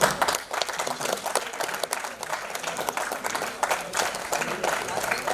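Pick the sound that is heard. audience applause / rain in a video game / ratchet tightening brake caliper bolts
audience applause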